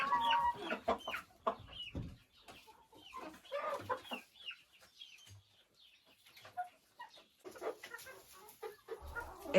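Chickens at a nest box cluck and murmur in short irregular bursts, fairly close and soft, with brief pauses between calls.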